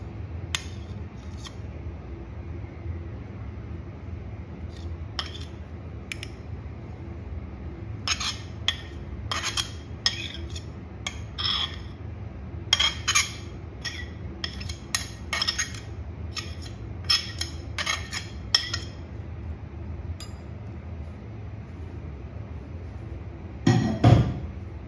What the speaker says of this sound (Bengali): সব ইনগ্রিডিয়েন্টসগুলো আমি এভাবে মিশিয়ে নিচ্ছি।